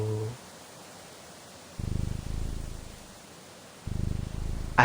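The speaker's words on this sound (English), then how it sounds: "I'm not sure if this is angry or it is purring because he is like comfortable." A cat purrs in the video game Her Trees, with two bursts of low rhythmic rumbling, each about a second long and separated by a quiet gap, close and moderately loud over a soft background hiss.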